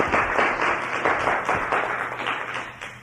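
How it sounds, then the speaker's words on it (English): A seated audience at a talk show applauds an Advocate of the Year from Casper, Wyoming, producing a steady, dense wash of clapping that holds evenly for about three seconds without letting up. "Another round of applause of appreciation"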